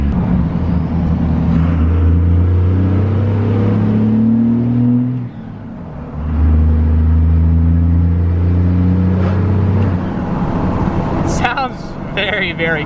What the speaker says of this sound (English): I love the way the Cummins sound.